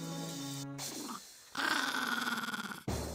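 A pet dog sitting right behind a streamer growls low and long, close to the microphone, with a few grunting breaths and a brief pause in between.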